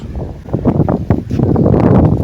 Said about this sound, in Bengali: হাওয়া হচ্ছে প্রচুর